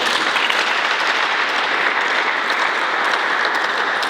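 A church congregation at Sunday Mass applauds loudly and steadily, dense clapping from many hands filling the room without a break.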